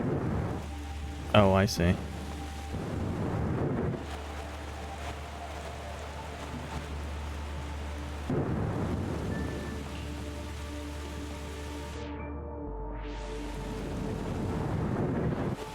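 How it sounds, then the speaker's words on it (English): Rainy thunderstorm in The Gardens Between video game: steady rain hiss and low rumble run throughout, with a sharp lightning crack near the start, under brief speech. "There will be another lightning strike"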